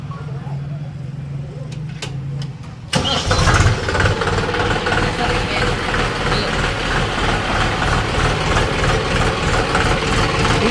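A Swaraj 735 FE tractor's diesel engine cranks and catches with a sudden loud roar, then settles into a steady, rumbling idle close by while people talk faintly over it.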